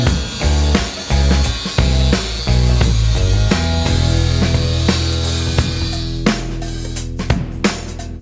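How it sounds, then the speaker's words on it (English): An angle grinder cuts a groove into the metal of a radiator for a 1965-72 Mercedes 280SE, giving a loud close grinding whine broken by repeated short bursts and pauses as the disc bites and lifts. "So now we're gonna take the grinder."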